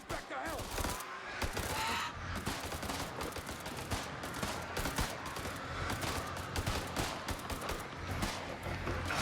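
Rapid gunfire rattles through a tense shootout in the horror game House of Ashes, dense bursts and volleys sustained at high loudness for the whole stretch with a voice briefly under it.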